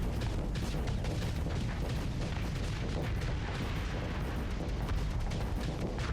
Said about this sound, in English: Now we're gonna switch over to our Annihilator rockets.